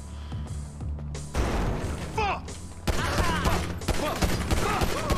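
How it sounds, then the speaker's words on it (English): Pistol shots fired in Grand Theft Auto V ring out as a sudden burst of sharp cracks, loud and close, amid game noise and brief voices. "Pull out the pistol just because."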